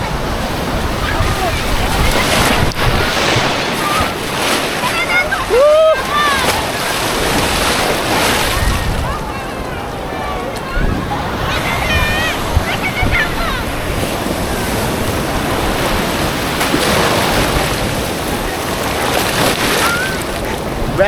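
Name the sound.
sea waves at the beach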